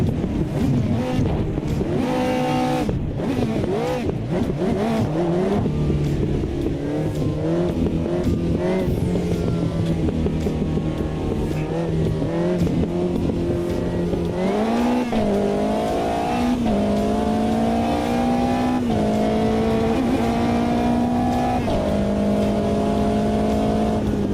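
P4 race cars roar around Monza in a sim racing game, engines droning loudly and continuously with rising and falling pitch through gear changes, several cars audible close together.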